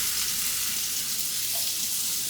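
Portobello mushroom pieces sizzling in hot oil in a pan, a dense, steady crackling hiss close up and continuous throughout.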